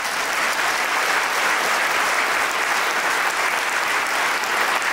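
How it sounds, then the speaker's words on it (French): Steady, dense applause from a large audience, sustained clapping filling the whole stretch without a break. "J'aimerais beaucoup qu'on applaudisse"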